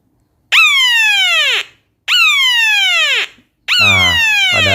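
Second tone of a homemade three-tone electronic siren circuit on a PCB: loud downward-sweeping electronic wails repeat in quick succession with short gaps between, three bursts close to the listener, the last overlapping a low buzzing hum.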